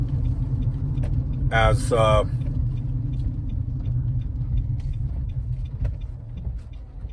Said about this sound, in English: just driving along here a little bit, trying to pay attention